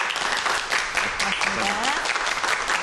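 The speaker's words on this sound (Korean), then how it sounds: "여러분 큰 박수 부탁드리겠습니다." A studio audience applauds at the end of a Korean science talk on wearable solar cells, a steady wash of clapping lasting a few seconds at moderate loudness.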